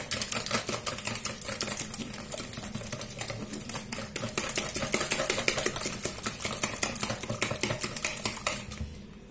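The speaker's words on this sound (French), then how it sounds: "Je vais battre tout ça, mélanger tout ça." Parsley, coriander, garlic powder and other ingredients for a cauliflower dish being beaten and mixed in a bowl, a steady run of quick clicking and scraping strokes close by, with no talk.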